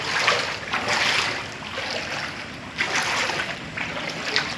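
Flood water in a residential area, a continuous rushing and sloshing wash with gusting surges and some wind noise, fairly close and loud, without clear speech over it.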